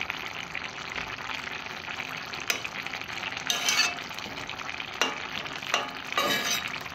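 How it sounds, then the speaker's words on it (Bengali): Potatoes stirred in a sizzling pan after a little water is added, with continuous frying hiss and periodic scraping strokes of a spoon against the pan, close up. "এরপর আলুগুলো ঘেঁটে দেবো এইভাবে।"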